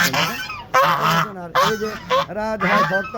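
Chinese geese honk loudly and repeatedly, in bursts of nasal calls that overlap one another, close by and with only short pauses between them.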